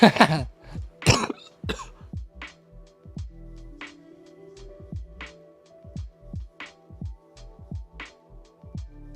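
A man with a cold coughs hard and repeatedly, heavy bursts up close at first, then a string of shorter, softer coughs and throat clearing spread across the whole stretch.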